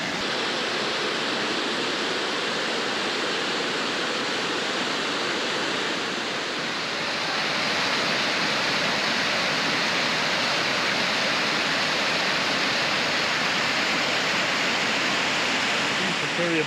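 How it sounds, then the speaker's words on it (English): Sycamore Falls on the Fiery Gizzard Trail roars as a steady, loud, broadband rush of falling water, continuous and unbroken throughout. "Made it out to Sycamore Falls. Beautiful waterfall."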